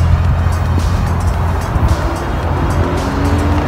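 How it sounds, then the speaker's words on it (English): A car passes close by with a steady, loud engine roar and road noise that hold through the whole moment, with faint tire sounds and no voices. "Oh my gosh, car."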